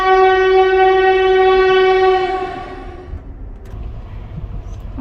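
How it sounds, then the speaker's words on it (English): Amtrak Empire Builder passenger train sounding a loud, sustained horn that fades after a few seconds, leaving low rumble and rail noise as it rolls along. "I'm glad you could join me on my train ride today."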